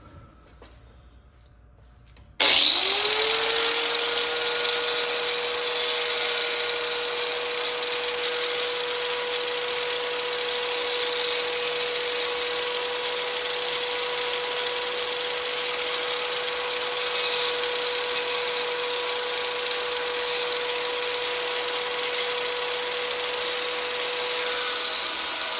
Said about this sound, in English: So now I'm just gonna cut right here just to get these little jagged edges off